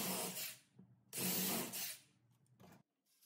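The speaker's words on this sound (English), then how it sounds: "I pre-drill the holes so not to split the wood" A power drill whirs in two short bursts drilling pilot holes into end grain wood, the second longer and louder, with brief pauses between and a faint clunk at the end.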